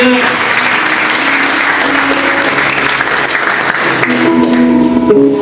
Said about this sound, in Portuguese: Você pode aplaudir o Senhor Jesus nessa manhã?